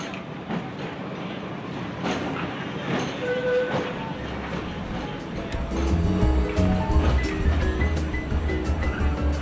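A historic train running to Palma on Mallorca rumbles steadily with low, sustained wheel-and-track noise that swells toward the end, with faint tonal squeals and possible distant voices mixed in.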